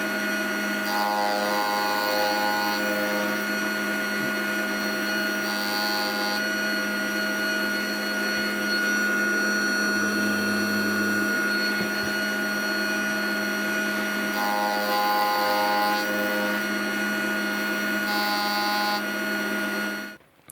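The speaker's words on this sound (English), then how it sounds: "I've now got that end piece milled down" A milling machine taking about 1.5 mm off the metal end piece of a 1946 Madewell 49 spark ignition engine backplate, a steady close mechanical whir and hum with faint periodic tonal shifts, running continuously for about twenty seconds before cutting off.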